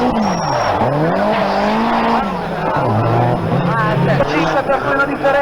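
Race cars on the circuit at the 1989 Pordenone motor fair, engines droning and sweeping in pitch with a hint of tire squeal, heard beneath continuous excited commentary.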